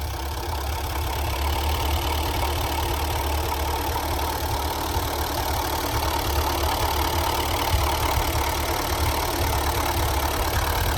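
A Ford 8N tractor, once abandoned and running again on salvaged parts, idles steadily with a smooth, even mechanical rumble and a faint knock, close by and constant throughout.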